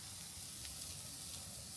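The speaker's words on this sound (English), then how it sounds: "we'll let it all sizzle up for a while" A soft, steady sizzle hisses continuously as steak sears on a wood-fired grill grate, faint and even with no voices.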